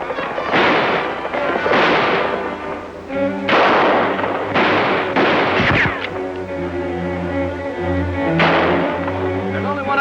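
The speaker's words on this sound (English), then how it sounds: "There's only one of them shooting at us." Gunfire in a western shootout, with repeated loud shots and bursts ringing out over several seconds against a busy background of music, and one sharp crack near the middle.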